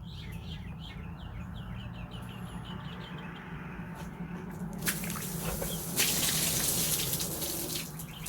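An object patched with Flex Paste is dunked into outdoor water, giving a gentle trickle and close splashing that swells loudly midway, with birds chirping in the background.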